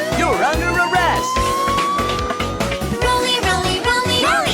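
Cartoonish police car siren with rising and falling wails over a bouncy backing beat, loud and continuous throughout.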